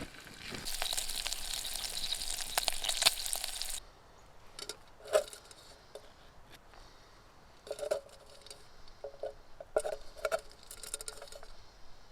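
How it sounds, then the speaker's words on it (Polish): Bacon sizzles and spits in a pan during a wild camp, a dense crackling hiss at first, then quieter scattered pops and spatters. "gdzie jest boczek, to właśnie się smaży na śniadanie"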